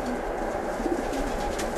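Racing pigeons coo softly in a pigeon loft, low murmuring calls repeating under a steady background hum, with no talk.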